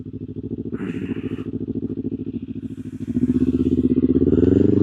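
A modified motorcycle engine chugs at a close, steady idle with a heavy pulsing beat, then the throttle is blipped and worked so the revs climb and hold higher toward the end.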